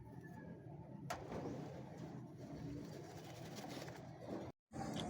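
Racing pigeons coo softly at a derby loft, faint low murmurs against a busy outdoor background, with no clear talk.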